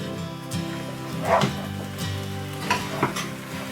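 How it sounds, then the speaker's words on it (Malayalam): A spoon moves through steamed tapioca and chicken biryani made with coconut oil in a pot, giving a few soft scraping stirs and muffled knocks over a low, faint sizzle. "ഇനി നമുക്കിതൊന്ന് ഇളക്കി കൊടുക്കാം"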